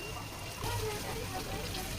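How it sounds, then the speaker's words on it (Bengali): Water poured into a pan of chicken roast masala during cooking, a steady splashing pour under kitchen background noise for about two seconds. "জল দিতেছি পরিমাণ মতন।"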